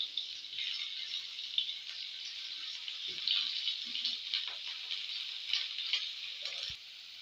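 Finely sliced onions fry in hot mustard oil for a jackfruit and prawn dish, giving a steady, close sizzle with occasional light stirring rattles and no talk.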